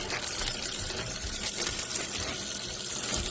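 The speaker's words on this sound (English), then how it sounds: "We're going to run some good cold water" Cold water runs steadily from a kitchen sink tap, a continuous, fairly quiet broadband rush with no speech over it.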